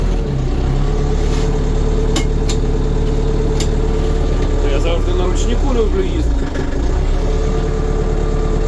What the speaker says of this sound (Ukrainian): Хай трохи нагріється. Двигун.